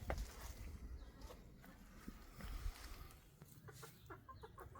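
Chickens cluck softly and intermittently in the background, faint and scattered, with a low outdoor hum underneath.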